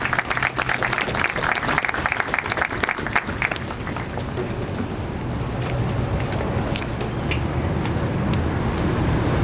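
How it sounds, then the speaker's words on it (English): Applause from an outdoor audience at a memorial anniversary celebration greets a church pastor in the chill, loud at first with broadband clapping, then settling into a steadier, lower wash mixed with outdoor background noise. "let's give him a round of applause."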